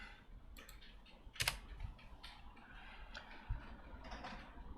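Typing on a computer keyboard during a coding session, a quiet run of light clicking keystrokes with a couple of louder taps, alone without talk.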